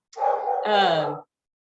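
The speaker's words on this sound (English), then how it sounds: "Sorry about the dogs in the background." Dogs bark and yip in the background over about a second, a burst of overlapping barks that rises and then stops abruptly, with no voices in the clip.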